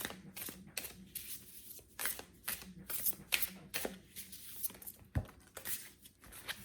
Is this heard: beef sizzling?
no